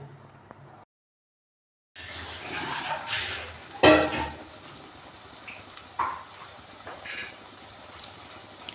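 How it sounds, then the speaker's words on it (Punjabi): Pakoras fry in mustard oil with a soft, crackling sizzle that starts after a brief silence, with occasional louder spits and stirring clatter. "ਇਸ ਕਰਕੇ ਮੈਂ ਇਸ ਨੂੰ ਸਰੋਂ ਦੇ ਤੇਲ ਵਿੱਚ ਹੀ ਕੱਢ ਰਹੀ ਹਾਂ"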